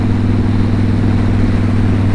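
A car engine pulls hard on a test drive, a loud, steady, close droning hum holding level throughout with no talking over it.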